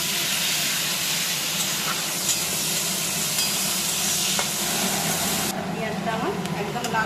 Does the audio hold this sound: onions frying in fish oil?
yes